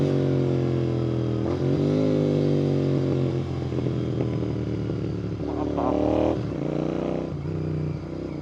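A Royal Enfield GT650 motorcycle's engine and exhaust drone steadily while riding, loud and close, with pitch shifts as the rider changes speed and brief wind noise.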